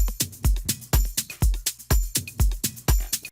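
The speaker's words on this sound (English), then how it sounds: "You hear that every second, fourth note has a tambourine" A programmed drum pattern with a tambourine hit on every fourth note gives punchy kicks and bright jingly tambourine strikes in a steady, quick loop, close and clean, with no voices.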